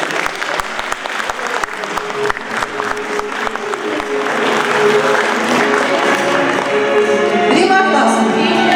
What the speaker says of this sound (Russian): Аплодисменты нашим авторам.